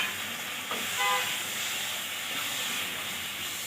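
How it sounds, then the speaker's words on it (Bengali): Water poured into a hot pan of fried potato, pea and paneer masala, a close, steady hissing sizzle that swells briefly near the start and then settles into a continuous bubbling hiss, with no voices. "কষানো হয়ে গেছে, এরপর আমি এর মধ্যে জলটা দিয়ে দেব।"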